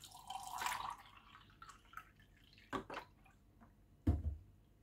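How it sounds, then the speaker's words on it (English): Canned milk is poured into a Bombay crush mixture, making soft liquid splashes and a few drips, with nearby handling sounds and no talk. "Let me add this milk to it."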